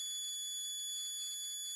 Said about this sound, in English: So you can tell from the buzzer when you've got a short.